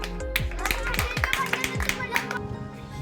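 Schoolchildren clapping for the winner of a game at a school, a quick run of light claps lasting a couple of seconds, mixed with children's and adult voices talking over them.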